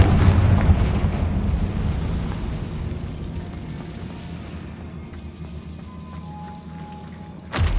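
Confringo fire spell exploding in a Hogwarts video game, a loud heavy blast with a deep rumbling tail that fades over several seconds before a fresh burst at the end.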